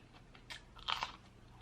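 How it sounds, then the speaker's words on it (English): Close, crisp chewing and crunching of sausage, rice and cucumbers in a mukbang, with a few loud bites in quick succession and no talking. "It's a lot of chewing"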